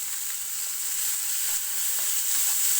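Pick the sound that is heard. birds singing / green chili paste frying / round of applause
green chili paste frying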